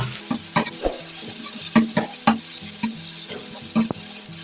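Chicken with masala is stirred on a hot tawa, a utensil scraping in an uneven rhythm of distinct strokes over a soft sizzle, close up and without voices.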